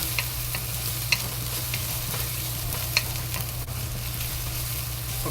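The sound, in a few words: carrots frying with scallion and ginger in a pan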